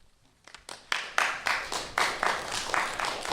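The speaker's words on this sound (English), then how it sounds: "And they clap." A board of trustees meeting audience breaks into clapping, starting with a few scattered claps and quickly building into steady, fairly close applause from a small crowd, with no talk over it.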